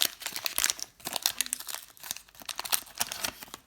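A 1990 Fleer baseball card pack wrapper being torn open: dense, close crinkling and crackling of foil in quick bursts with brief pauses, fairly loud and with no voice over it.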